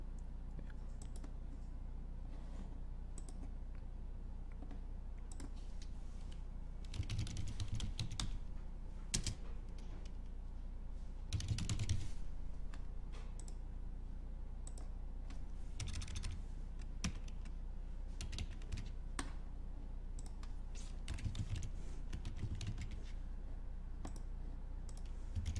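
Steady clicking of keys on a computer keyboard as basic details are entered into a form, with bursts of quicker typing over a constant low hum and no voices.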